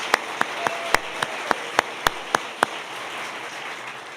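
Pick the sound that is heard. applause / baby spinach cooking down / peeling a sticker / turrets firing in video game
applause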